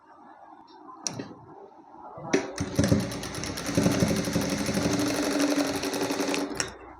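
A sewing machine stitches a short seam of about an inch and a half on a blouse, starting after a few clicks and handling noises and then running in a quick, even, rattling patter for several seconds before stopping.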